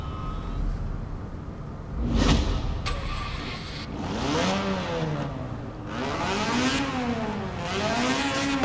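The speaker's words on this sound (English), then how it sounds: "we'll just give it a quick sound of what the original engine sounds like" A 1985 Mazda RX-7 engine in a video game revs up and down several times, pitch sweeping rising and falling in repeated arcs, with a brief louder burst near the start.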